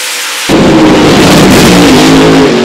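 Chevrolet Camaro and Mustang funny cars roar down a drag strip, a sudden, very loud, dense engine blast that bursts in and holds at full power.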